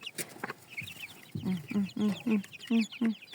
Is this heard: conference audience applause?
no